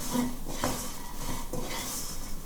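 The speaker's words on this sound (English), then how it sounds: "Just stir that up." Tofu stirred in a pan with a utensil scraping and clinking against the metal, steady close scraping strokes over a faint sizzle, no talk.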